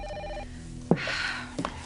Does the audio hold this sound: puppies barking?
no